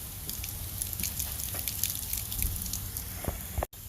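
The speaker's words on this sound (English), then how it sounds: "I'm going to rinse my hand in the spigot here." Hand rinsed under an outdoor water spigot, a faint trickle and patter of water with small splashes, quiet and close, ending in a brief dropout.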